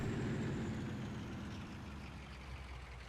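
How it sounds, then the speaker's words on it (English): Road traffic rolling past in Farming Simulator 19 at dawn: a steady engine drone of a passing vehicle, loudest at first and fading slightly as it moves away, with no voices. "Fair bit of traffic out for 6 a.m."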